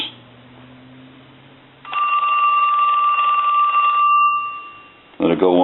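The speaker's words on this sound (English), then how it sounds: "We'll go ahead and ring that telephone." A Western Electric Trimline telephone bell rings loudly and steadily for about two seconds, a bright sustained ring that fades out, with quiet background hum before and a brief clatter at the end.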